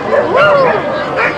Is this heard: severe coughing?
no